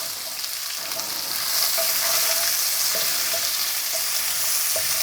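Chopped onions sizzle steadily in a hot pan, a loud continuous frying hiss that swells slightly as they settle, close and with no talking.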